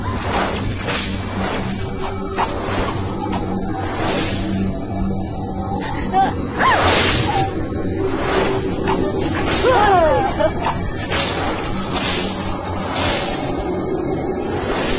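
A burial shroud cloth lashes through the air in a horror comedy scene, repeated whooshing swipes and sharp crack-like impacts spread across a busy, reverberant effects mix.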